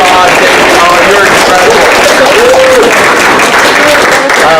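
Sustained, loud applause from an audience at a community rights forum, thanking a panel of speakers, with dense continuous clapping and voices calling out over it throughout.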